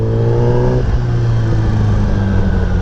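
A nearly new Kawasaki ZX-10R sport motorcycle with 310 miles and an SC-Project exhaust idling and revving, a loud, close, steady engine drone whose pitch drops after a brief higher note.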